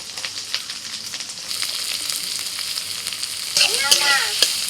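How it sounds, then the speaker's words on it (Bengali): Ginger, chili, carrot, onion and capsicum frying in a pan, a steady crackling sizzle with occasional stirring scrapes, growing louder and busier toward the end. "সবজিগুলোকে একটু ভেজে নিয়ে"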